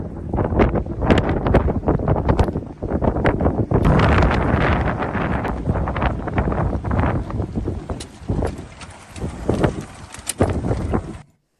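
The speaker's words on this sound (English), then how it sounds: "this is how windy it was" Strong gusts buffet the microphone in loud, rough bursts, a constant roaring wind noise that swells and dips before cutting off abruptly.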